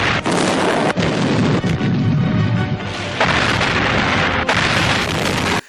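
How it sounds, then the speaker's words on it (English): Loud, dense rumbling explosions from the 1997 movie Breeders, with several sharp booms and crashes, continuous and intense throughout, no voices. "There are some real explosions in this movie, and some of the fakest explosions I've ever seen."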